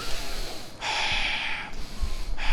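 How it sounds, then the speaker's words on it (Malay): Deep breaths drawn in through the nose during a relaxation routine, a close, airy inhale and exhale sequence with one long rushing intake in the middle and shorter breaths around it. "hang tarik nafas 3 kali"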